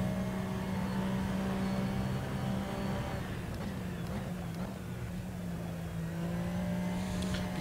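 Race car lapping in Assetto Corsa at the Nürburgring, a sustained steady engine drone with slight pitch shifts, continuous and fairly loud throughout.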